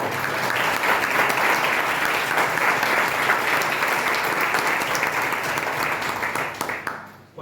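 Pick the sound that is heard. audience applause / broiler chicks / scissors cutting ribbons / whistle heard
audience applause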